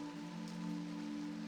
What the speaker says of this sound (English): The rain begins as you pass through the gate.